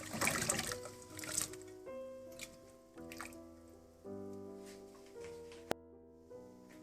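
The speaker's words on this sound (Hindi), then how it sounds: "पानी में उबाल आने के बाद आपने ये सारे आलू पानी में डाल देने हैं।" Raw potatoes for French fries splash into a pot of boiling salted water with vinegar, a brief watery burst at the start, followed by faint bubbling under steady background music.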